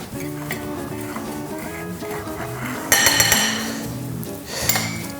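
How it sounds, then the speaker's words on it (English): A fork clinks against a dish while seasoning is mixed in, with a run of light taps and scrapes that grows into sharper, brighter clatter midway, all close by with no talking. "mix it with your fork"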